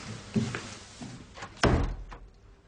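A door shuts with one sharp, fairly loud thud after a few softer shuffling knocks, in a quiet indoor room with no talking.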